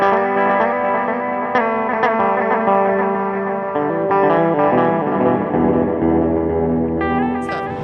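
An electric guitar plays through a delay and reverb pedal set to a wavering vibe sound, sustained chiming notes blurring into echoes, loud and steady with no voices.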